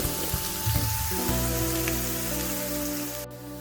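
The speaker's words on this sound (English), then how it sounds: "Put some garlic. You just have to brown the garlic." Garlic browning in oil in a pan for chicken adobo sa gata gives a steady, close, crackling sizzle that runs without pause and with no talking.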